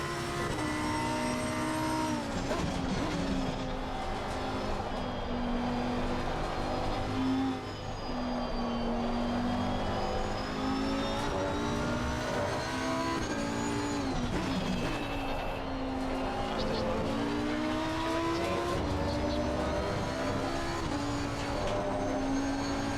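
A race car engine at Spa-Francorchamps in a racing video game drones loud and steady from the cockpit, pitch rising and falling through gear changes and corners across the whole stretch, with no talking.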